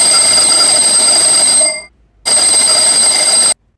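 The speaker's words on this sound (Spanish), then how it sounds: "la campanilla que está a 10 metros suena inmediatamente" An electric bell rings loudly and close in two sustained bursts, a long metallic ring that stops abruptly, a short pause, then a second ring that cuts off cleanly.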